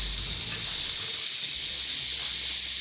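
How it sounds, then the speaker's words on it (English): Butter and onions sizzle on a hot Blackstone griddle, a loud, steady hiss running unbroken through the whole stretch with no talk over it. "So I'm just going to drop a pat of butter or 2 here and get my onions down."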